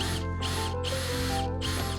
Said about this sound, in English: One of the screws got stuck, so I had to drill it off.